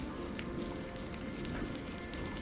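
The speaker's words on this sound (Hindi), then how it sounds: "अगली सुबह बारिश और तेज हो गई।" Heavy rain pours steadily onto a surface, a dense, constant hiss with scattered drop impacts, filling the whole stretch with no voices.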